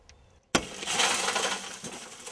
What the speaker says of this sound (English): And also a spring-loaded center punch as well that will do the same thing. Breaking glass.